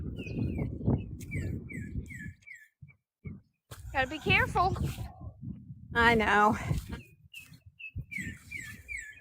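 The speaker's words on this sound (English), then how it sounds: "Oh, I love to hear the birds." Birds chirp in short repeated bursts in the background outdoors while people talk nearby, including brief higher-pitched exclamations.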